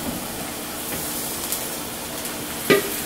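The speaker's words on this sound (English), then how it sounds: "We are adding our tomatoes and the 1 jalapeno pepper." Tomatoes and a jalapeno pepper hitting a pan of frying onions, producing a low continuous sizzle with a few faint crackles and one sharper pop near the end.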